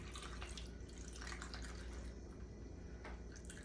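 A Singapore Sling cocktail is strained into a glass, a soft steady trickle and splash of liquid running for a few seconds, close and fairly quiet, with no voices.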